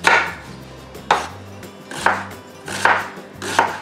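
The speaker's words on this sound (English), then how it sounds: "I'm just going to run my knife through it 3/4 of the way through to the back end of the onion." Kitchen knife slicing through an onion on a cutting board while preparing a one-skillet ramen noodle dish, five distinct crisp cuts spaced about a second apart, close and clear with no talk.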